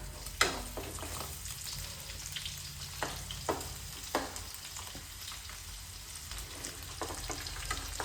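Fenugreek and spices sauté in a hot pan, a constant crackling sizzle broken by several sharp scraping stirs of a spoon, close and uninterrupted by talk.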